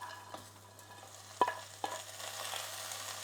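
Onions and meat sautéing quietly in a pan, a faint steady sizzle with a couple of sharp utensil clicks near the middle, no voices.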